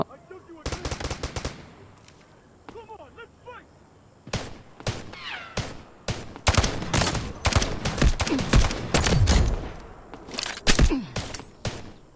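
Bursts of automatic gunfire ring out in a video game shooter match in hot zone mode, with sharp clustered shots coming in volleys and thickening into rapid fire toward the end, under game sounds and faint voices.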